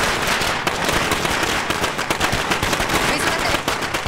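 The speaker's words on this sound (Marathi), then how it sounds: "एक माणूस मेलाय, फटाके फोडायचं कसं सुचतंय रे तुम्हाला?" A rapid string of firecrackers goes off in loud, close, crackling bursts that pop continuously for several seconds.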